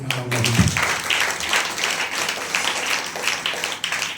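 A church congregation bursts into applause, a burst of many hands clapping that spreads into a dense, sustained patter and carries on for several seconds in a reverberant room.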